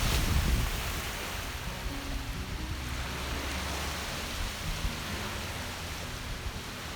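Steady surf and wind roar along Sauble Beach on the eastern shore of Lake Huron in Ontario, a long public sand beach, forming a continuous broadband wash with no voices.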